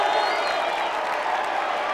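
High school football crowd at a 2000 Elder vs St. Xavier game, cheering and applauding in a steady, loud roar of many voices that holds for the whole moment without a break.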